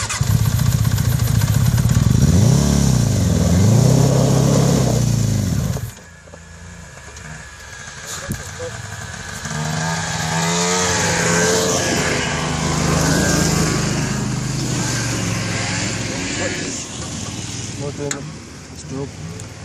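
A Honda Pilot buggy fitted with a Suzuki GSX-R600 motorcycle engine revs loudly and close for several seconds, cuts out briefly, then rises again in wavering revs, with people talking over the engine noise.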